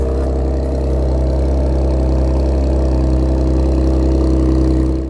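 An Audi S7 engine rumbles with its exhaust valve open in dynamic mode, a deep, steady, close drone heard on its own with no talk.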